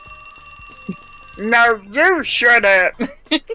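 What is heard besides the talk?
telephone ringing in video game 428: Shibuya Scramble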